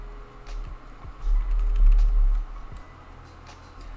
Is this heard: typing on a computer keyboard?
yes